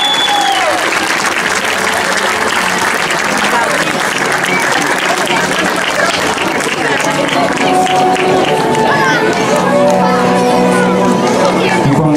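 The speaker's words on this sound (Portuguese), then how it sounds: "Para a Ruth, uma salva de palmas." A large crowd claps and cheers loudly and continuously at a queen's opening parade and pageant, dense applause blending with crowd babble and shouts throughout.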